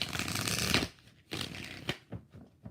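Tarot cards are shuffled several times in quick, riffling bursts, close and fairly quiet, with short pauses between.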